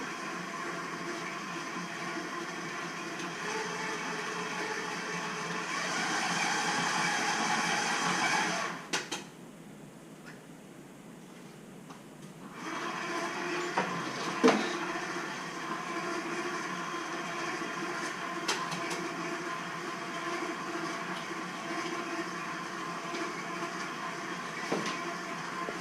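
Electric mixer whirring through sugar cookie dough, a steady mechanical drone that briefly drops and shifts around the middle before resuming at an even, moderate level.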